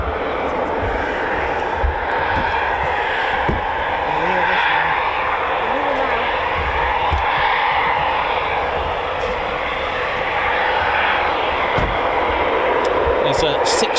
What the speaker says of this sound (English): We do have 2 Typhoons taxiing out, I believe